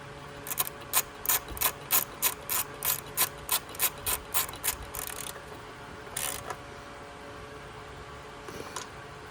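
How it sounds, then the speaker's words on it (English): A ratchet with a 10 mm socket tightens a bolt, producing a close, loud, steady series of about a dozen evenly spaced clicking strokes, then a pause and a few more scattered clicks. "Go back to our 10 millimeter here, tighten that in."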